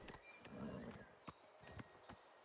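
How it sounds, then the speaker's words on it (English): A horse in The Elder Scrolls IV: Oblivion Remastered whinnies and clip-clops softly, a few scattered hoof knocks and a brief neigh at low volume in a quiet game scene. "Get on that horse."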